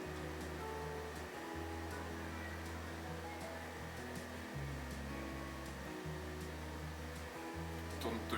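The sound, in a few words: air conditioner running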